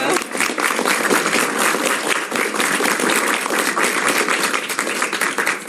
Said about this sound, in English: First round of applause once again for Representative Barrett.